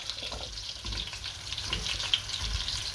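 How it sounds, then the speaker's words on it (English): Celery, celeriac, onion and carrots go into hot oil left from searing beef short ribs, producing a soft continuous sizzle and crackle close up, with no voices. "In the same oil, we go in with celery, celeriac, onion, carrots,"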